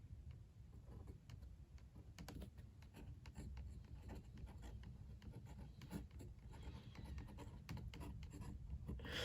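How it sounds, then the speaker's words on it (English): A TWSBI Classic fountain pen scratches across rough paper, close and quiet, a continuous dry rasp broken by quick strokes and little ticks as it is lifted and set down, with no talking. "So all I'm going to do is just basically do a writing test with these."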